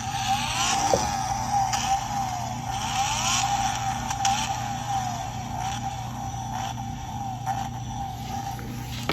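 The small electronic engine-sound unit of a diecast Nissan Skyline GT-R R34 model whines and revs in a steady high-pitched drone, with rising and falling pitch sweeps and a few clicks, continuous throughout.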